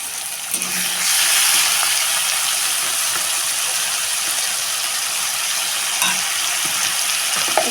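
Ginger garlic paste hits hot oil with a loud, continuous sizzle, overlaid with scraping and clicking from stirring in the pan.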